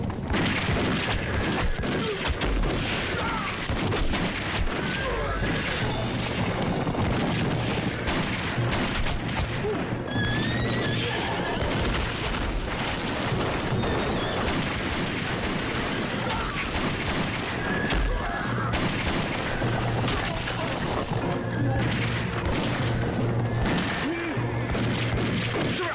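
Sustained gunfire volleys from a bandit raid in a deep-forest setting, dense and continuous across the whole stretch with repeated bursts and booms, loud and close, with voices shouting over the shooting.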